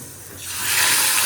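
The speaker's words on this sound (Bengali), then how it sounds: "মাছের কড়াইটা আগে চাপিয়েছি, মাছটা আগে ছাড়ি।" Fish goes into hot oil in a small wok, and a bright hiss swells within a moment and holds loud and close.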